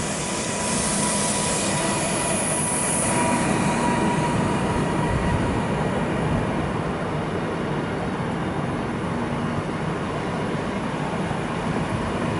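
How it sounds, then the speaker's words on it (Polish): Passenger train pulling into a platform at Skierniewice station in Poland, a steady, loud rumble of wheels and carriages that runs unbroken throughout. "Pociąg osobowy do stacji Warszawa Wschodnia przez stację Żyrard. Warszawa Zachodnia. Warszawa Śródmieście wjedzie na tor przy peronie 1."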